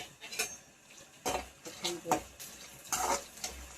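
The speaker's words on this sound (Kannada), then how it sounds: "ಎಲ್ಲ ತುಪ್ಪದಾಗ ಫ್ರೈ ಮಾಡ್ಕೊಂಡಾಗತ್ತೀವಿ. ಜರ ಇಟ್ಟಲ್ಲ, ಗ್ಯಾಸ್ ಹೈ ಫ್ಲೇಮ್ ಮೇಲೆ" Food frying in ghee over a high gas flame, a soft sizzle beneath repeated clattering of a metal spoon against the pan, with a voice talking faintly in the background.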